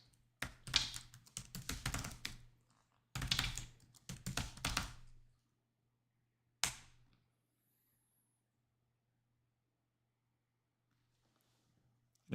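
Keyboard typing during a Linux installation, heard as two close bursts of rapid key clicks over a faint steady hum, followed by a single sharp tap and then near silence.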